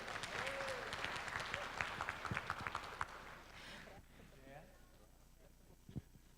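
Audience applauding after a speaker at a national poetry recitation festival in Rio Grande do Sul, a dense burst of clapping under a host's voice that fades after about three seconds, leaving quieter room sound.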